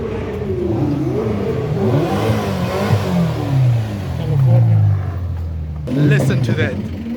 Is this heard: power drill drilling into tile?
no